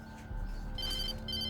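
Telephone ringing in Alan Wake, a steady electronic ring with a warbling bell-like tone, fairly faint behind a low background rumble.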